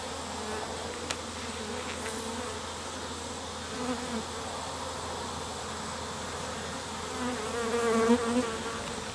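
Wild honey bee swarm buzzing outdoors, a dense continuous hum of many bees with individual insects flying close past now and then, no voices.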